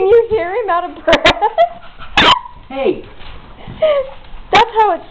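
An excited puppy panting and whimpering out of breath, close by, with short yips and breathy gasps amid a person talking over it.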